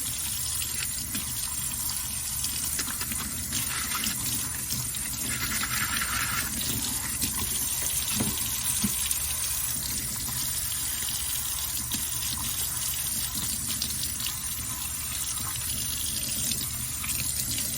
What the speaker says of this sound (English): So just keep scrubbing.